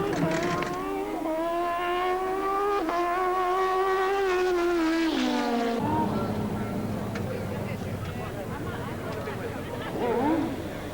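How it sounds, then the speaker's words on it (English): Super Street drag bikes with nitrous and turbochargers, running on treaded street-legal tyres at Santa Pod, scream in a rising whine through several gear changes, then drop to a broad roar with crowd babble and an announcer's voice. "on to some action on two wheels now with the motorbikes and the premiere of 3 classes of street bikes"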